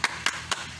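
Three sharp, evenly spaced hand claps ring out close by in a kindergarten clap chant, each crisp and short with quiet gaps between.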